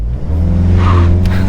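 A 2022 VW Golf GTI S, the Mk8, revs hard while launching from a standstill, a loud steady engine drone with a rising whir partway through and no talking.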